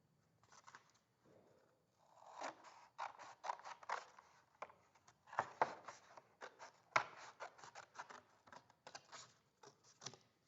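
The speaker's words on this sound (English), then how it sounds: "The first thing you want to do is you want to cut your paper plate in half." Scissors snip through a paper plate, cutting it in half in a long series of crisp, close cuts with short pauses between bursts, no voices over them.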